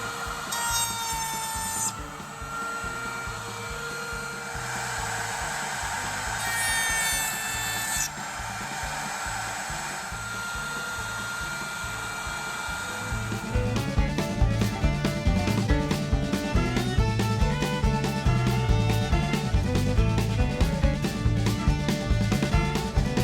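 A router table bit cuts dovetail pins in a wooden board, giving a sustained whine with rhythmic rasping passes that grow louder and more rapid partway through.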